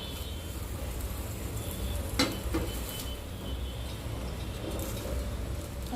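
An oiled brinjal roasts directly over a flame for smoky vangi bharit, giving a steady, faint hiss with a couple of brief clicks partway through.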